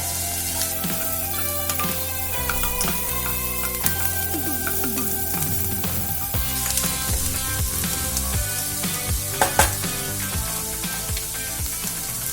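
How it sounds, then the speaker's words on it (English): Cabbage and capsicum sautéing in a pan for fried rice, a loud steady sizzle with scraping stirs and occasional sharp clinks of a utensil, close and continuous. "I'm gonna add some cabbage and some capsicum, and I'm gonna saute all of this nicely"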